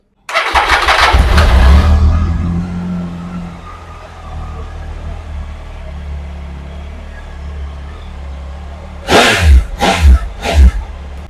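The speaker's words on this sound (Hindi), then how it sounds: "Amazing sound on this bike too." A stock sport motorcycle engine, fitted with an engine protector, cranks up loudly and settles into a steady idle, then three sharp throttle revs burst out near the end.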